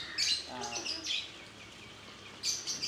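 Birds in a large home aviary housing pigeons and pheasants give short bursts of bright chirping calls, fairly close, with quiet gaps between them.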